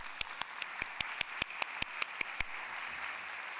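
A conference audience claps at a keynote, with sparse, distinct hand claps at a fairly regular pace over a steady room hum. The claps fade out after a couple of seconds, leaving only background noise.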